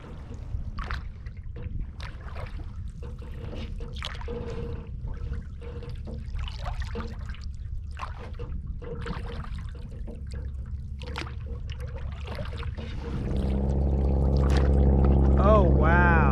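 Canoe paddled through Okefenokee swamp water, with steady soft watery trickles and paddle splashes under continuous background noise, close by, ending in a rising wash of water sound; no clear speech.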